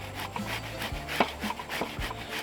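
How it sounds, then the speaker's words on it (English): Cucumber being grated by hand for tzatziki, with close, soft rhythmic rasping strokes repeating about twice a second over a faint low hum. "grate this down, and you'll see what I'm going to do here"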